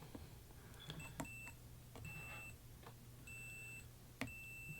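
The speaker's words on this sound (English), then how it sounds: "You can hear by that beep that everywhere I'm checking" Several short, high electronic beeps from a continuity tester checking ground points on a guitar's wiring sound intermittently over a faint low hum, with a few light clicks between them.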